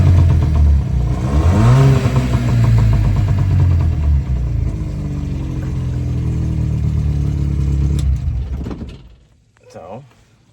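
The engine of a cheap used small boat runs loud and steady after being put in gear, its pitch rising as it gains speed, then drops away near the end, leaving quiet with a brief mechanical clunk.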